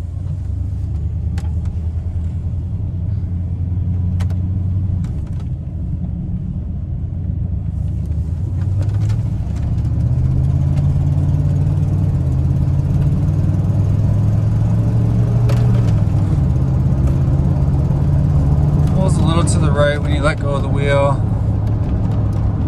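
A 1994 Ford F250 XLT HD pickup rolls along with a steady low engine rumble whose pitch climbs as it gathers speed, with road noise throughout and a brief high whine near the end.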